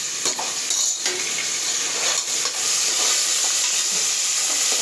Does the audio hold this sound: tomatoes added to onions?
yes